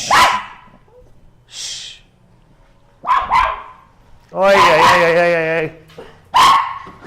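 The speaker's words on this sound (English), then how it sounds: "Gotta put up with a yappy dog for a second here." A small yappy dog barks in sharp, high bursts, about four loud close yaps with a whining cry among them, while someone talks and hushes it.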